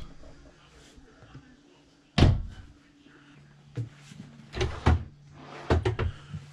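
Cabinet doors and drawers in a 2020 Grand Design RV are opened and shut, giving a loud thunk followed by several sharper clacks and bumps spread over a few seconds in a quiet interior.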